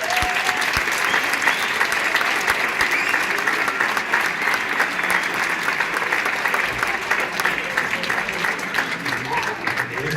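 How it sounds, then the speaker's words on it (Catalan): Audience applause for Pere Giró at a city gold medal ceremony honouring the UEF, a steady, dense round of clapping throughout. "El primer aplaudiment el demanem pel senyor Pere Giró."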